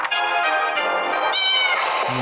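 A cat meows in a long, drawn-out call, loud and close, with a second rising meow toward the end.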